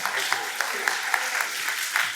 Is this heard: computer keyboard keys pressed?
no